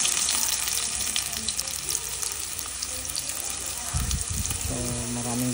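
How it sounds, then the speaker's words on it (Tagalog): Garlic sautéing in a pan for Ilonggo-style kansi bulalo, a steady broadband sizzle and frying hiss running throughout with light stirring clatter, close and continuous, no talking. "So igisa natin, lagyan natin yung bawang"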